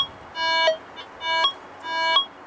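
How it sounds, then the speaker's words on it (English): A metal detector tested over heavily mineralized dirt emits three tonal target beeps in mix mode, each a short rising buzzy tone with a sharper blip at its end, evenly spaced and clear. "So as you come up to it, you hear Yep, and then yep, beep, you'll hear yep. that little shot."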